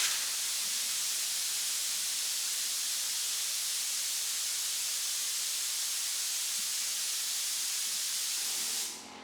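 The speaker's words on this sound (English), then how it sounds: "I put the little compressor outside because it is real loud. It is currently kicked on" A small portable air compressor, set outside, runs steadily as it fills its tank, a loud, even broadband hiss that holds for nearly the whole stretch before cutting off abruptly at the end.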